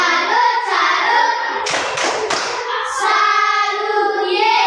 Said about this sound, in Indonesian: mari kita beri tepuk salut untuk kelompok 3